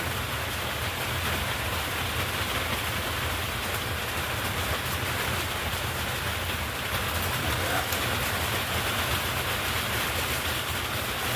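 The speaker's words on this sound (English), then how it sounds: "It is raining here, so if it gets really loud, I apologize." Steady rain drumming on a trailer house, a dense, even hiss that holds at the same level throughout without a break and with no voices.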